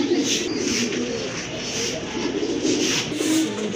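Pigeons, including a Lahore cock bird, coo repeatedly in a close, busy mix of overlapping low throaty calls, with faint background chatter from a pigeon market setting.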